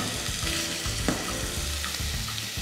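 Meatballs fry in oil to brown, giving a dense, continuous close-up sizzle with a low bubbling rumble and occasional small pops, with no voices.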